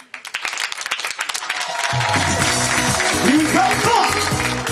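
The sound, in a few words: audience applause for a performer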